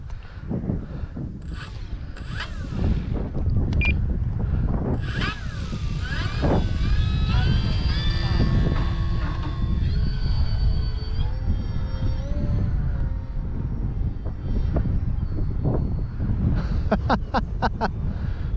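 An OMP Hobby Super Decathlon RC high-wing airplane flies in windy conditions with its electric motor running, a steady droning whine rising and falling in pitch as it maneuvers, with wind buffeting the microphone throughout.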